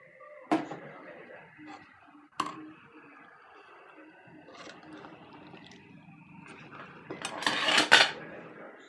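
Pots and utensils clatter as chayote is dropped into a cooking pot of chicken tinola, with a few sharp knocks and a louder rattling splash near the end.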